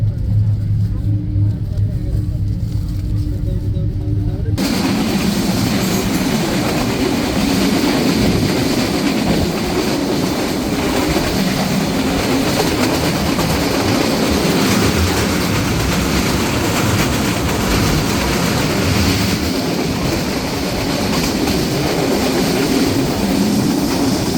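Padma Express intercity train on the Rajshahi to Dhaka run pulls into Baral Bridge railway station on a single line. A loud, steady rumble of wheels and carriages runs throughout after a brief quieter opening.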